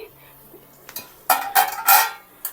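Metal utensil scraping and clinking against a pan while stirring prawn curry, a few short bursts of scraping and knocking, fairly close, with no talk.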